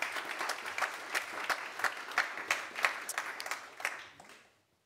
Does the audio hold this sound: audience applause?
yes